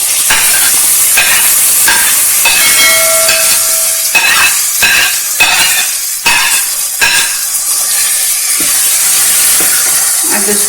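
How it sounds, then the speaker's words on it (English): Baingan bharta, a North Indian mashed roasted eggplant dish with roasted jeera powder added, being stirred and mixed in a pan, with steady sizzling frying hiss and repeated scraping stir strokes throughout, close and loud. "Now we have given it a good mix."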